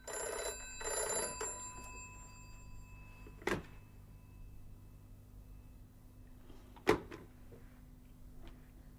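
A telephone bell rings in a double burst at the start, then stops, followed by two sharp knocks or door thuds spaced apart over a faint steady hum in a quiet room.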